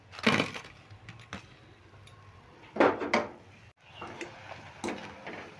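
Crispy egg pakoras are turned and lifted in a frying pan, giving sharp, scattered crackles and light metallic clinks that come in a few distinct bursts over a low background.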